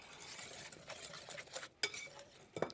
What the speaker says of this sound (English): into this bowl were a couple of eggs and some sugar, and I'm just going to whisk that together to get it started